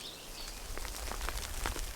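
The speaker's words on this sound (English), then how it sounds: "Oh, the rain." Light rain falls on a wild camp, with soft scattered drops pattering close by on a bivvy and the ground. The sound is faint, there is no speech, and a bird may call once in the distance.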